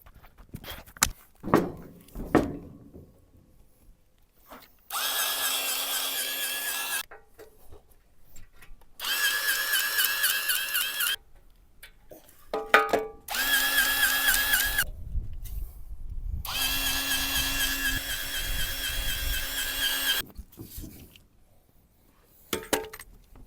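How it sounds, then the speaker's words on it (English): Battery-powered grease gun pumping grease into a machine in several bursts of whirring motor noise, each a few seconds long, separated by quiet gaps and clicks of handling. "So let me grab the grease gun"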